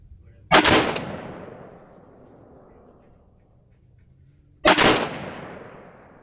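Two sharp rifle shots fired at a target 50 yards away, the first near the start and the second about four seconds later, each loud with a long rolling echo that decays outdoors.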